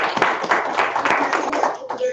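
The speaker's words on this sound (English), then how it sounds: "We can give her a round of applause." A round of applause from a board meeting: a few seconds of continuous, slightly tinny clapping that sounds closely picked up and fades out near the end.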